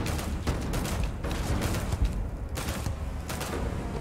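Gunfire from the sci-fi shooter game Starfield, a dense, steady barrage of rapid shots with a few louder bursts, sounding continuous and close throughout without any talking.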